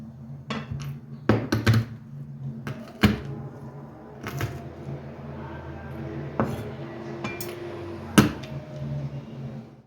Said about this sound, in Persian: حالا اینها رو هم باید خورد کنیم.